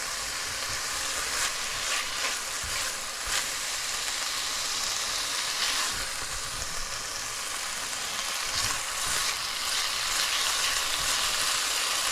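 Chicken pieces frying in a pan over medium-high heat, a continuous crackling sizzle with occasional stirring bumps, steady and close with no talking.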